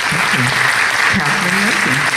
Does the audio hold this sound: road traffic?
no